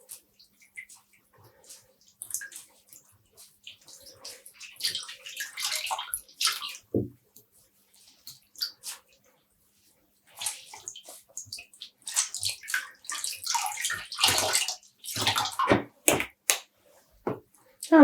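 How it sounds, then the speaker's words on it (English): Water is squeezed and wrung from hand-dyed yarn being speckle-dyed at home, giving bursts of splashing, dripping and sloshing separated by quiet pauses, fairly close. "And squeezing out the water."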